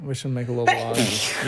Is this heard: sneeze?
yes